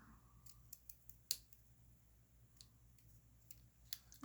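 Scissors snip the ends of craft supplies at an angle, making a handful of small, crisp, irregular clicks and cuts, close but very quiet over a faint low hum.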